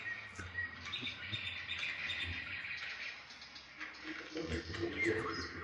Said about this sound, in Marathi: आजूबाजूचा पक्ष्यांचा मंजूळ आवाज